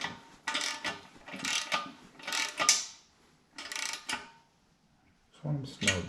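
Bolts being tightened on a 2 ton Strongway engine lift from Northern Tool during assembly, heard as several bursts of ratcheting clicks with short pauses between them, close by.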